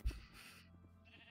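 A sheep in the video game Minecraft gives one short, soft bleat, brief and fairly faint, trailing off into quiet background.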